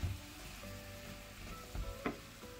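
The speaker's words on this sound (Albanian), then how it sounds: "Vazhdojmë, fërgojmë." Mushrooms, onion and chopped potatoes sizzle steadily in a frying pan, a constant close crackle broken by a few soft stirring knocks and clatters, with no talk.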